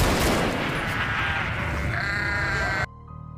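A goat possessed by an evil spirit on a farm in a horror film gives loud, strained, wavering bleats over a rumbling dramatic score that cuts off abruptly near the end.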